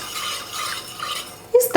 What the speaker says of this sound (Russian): И хорошо размешиваем.